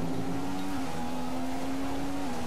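A Honda-powered Formula 1 car engine in the racing game F1 2015 at Singapore holds a steady high whine, then briefly dips in pitch as it shifts up to fourth gear, loud and continuous.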